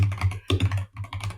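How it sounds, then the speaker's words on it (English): A very clicky computer keyboard typed in quick, uneven bursts of sharp clacks close up, with a brief pause partway through and a low steady hum underneath. "Some more ASMR with my very clicky keyboard."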